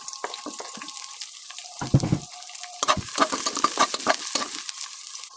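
Onions sizzling as they fry in a pan while cooking squid adobo, with bursts of crackling and stirring scrapes, plus a brief splash of water, close and clear.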